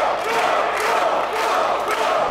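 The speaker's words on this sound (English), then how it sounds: "And the crowd is yelling Crow." A crowd at an Unlimited Wrestling live show chants the name Crow in a loud, rhythmic, sustained roar of many voices filling the arena.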